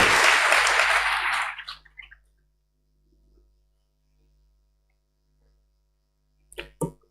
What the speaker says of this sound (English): Clap loudly before she takes the microphone.